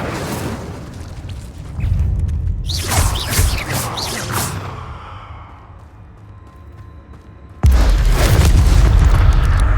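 Incendio fire spell cast in Hogwarts Legacy, loud whooshing bursts of flame with a rising roar, fading to a quiet lull before another strong fiery burst erupts and holds.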